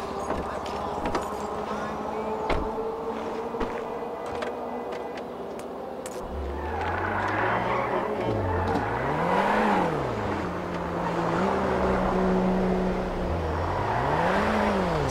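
A car driving in GTA 5, its engine rising and falling in pitch through several revs and shifts, with tyre skids and road noise, heard close and steady for about fifteen seconds alongside game sounds.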